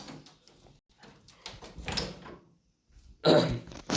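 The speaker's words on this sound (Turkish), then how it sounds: "babam uyuyor kapıyı kapatayım" An indoor door shuts with a loud, close thud and rattle near the end, preceded by quiet muffled movement, during a Jurassic World board game session.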